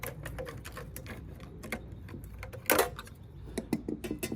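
A part is peeled off the circuit board of an LTO tape drive being torn apart for e-waste. Close, dry crackling and sticky ticking sounds rise to a sharp rip midway, then continue as scattered clicks.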